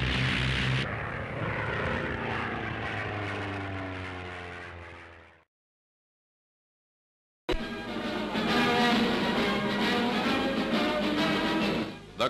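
A Supermarine Spitfire fighter from the late 1930s to 1940s climbs during a factory test flight, its propeller engine droning loudly with a falling pitch sweep, then cutting out before a second, rougher stretch of engine roar.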